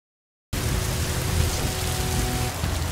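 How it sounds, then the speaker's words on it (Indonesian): Heavy rain pours down steadily after a half-second of silence, a dense, loud, continuous wash of noise with a low rumbling undertone. "hujan besar turun yang mengakibatkan Citarum banjir"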